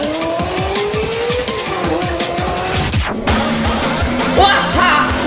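A race car in a 3ds Max racing animation: the engine revs climb and fall through gear shifts, then tires squeal and skid loudly near the end, with brief talk faintly underneath.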